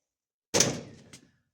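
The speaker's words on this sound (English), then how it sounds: "I'm going to close the doors on that." Meat locker doors on a homestead pantry shut with a single loud, close thud, followed by a short rattling tail and a softer second knock as they settle.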